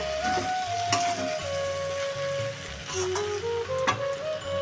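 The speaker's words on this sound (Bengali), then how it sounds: "এবার আমি ভালো করে মিলিয়ে নেব ভালো করে মিলিয়ে নেব" Kachki fish chachchari being stirred and mixed in a frying pan, a steady sizzle with repeated scraping strokes of the spoon and a faint background tone, no talking.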